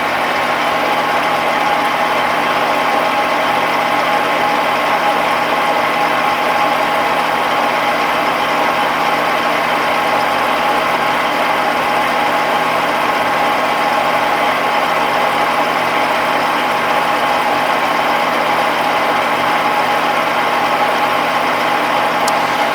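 A metal lathe running slowly while skimming a guide bushing, a steady, loud mechanical hum and drone that holds constant throughout with no speech.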